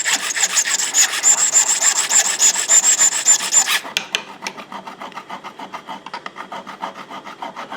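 A hand file works a precision metal part in steady, rhythmic rasping strokes close by, then softer, lighter strokes follow without talk.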